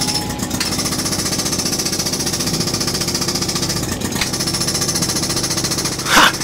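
Five or six miners work in a uranium mine, filling it with deafening, rapid, continuous mechanical hammering, a brief pause, then a sharper louder burst near the end.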